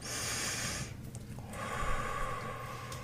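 A single deep breath drawn in near the microphone during a guided meditation, a short airy intake followed by a longer, quieter exhale and room hiss.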